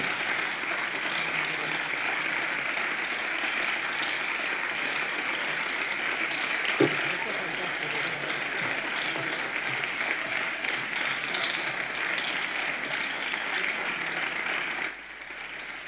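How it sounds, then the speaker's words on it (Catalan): Sustained applause from members of all parties in a parliamentary chamber: a dense, even roar of clapping lasting about fifteen seconds before it suddenly drops away near the end. "Ha unat, en aquest cas, aplaudiments de tots els partits"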